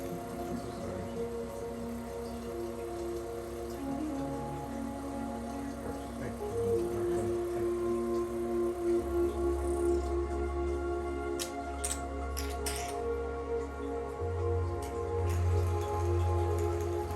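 A HydraFacial machine spits and gurgles water during a facial treatment, a steady wet hiss with scattered sputters and drips running throughout under a low machine hum, close and fairly quiet.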